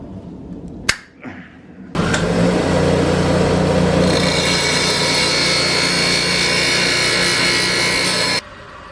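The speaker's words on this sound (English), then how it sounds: "I need to grind all that weld off of this piece really quick." A power grinder grinding weld off a metal piece for a Honda Ruckus scooter, starting with a couple of sharp knocks before the tool spins up into a loud, steady, harsh whine lasting several seconds, then stopping abruptly.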